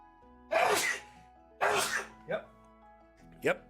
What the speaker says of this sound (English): I feel like I might sneeze.